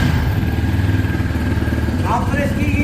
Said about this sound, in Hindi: एग्जॉस्ट देखें, और एग्जॉस्ट की साउंड चेक करें